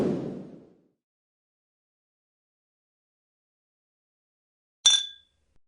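Beer glasses clink once in a short, bright ring after a long silence. A soft dull knock comes at the very start.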